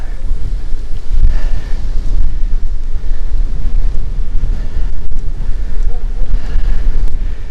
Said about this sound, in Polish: Ostro wieje.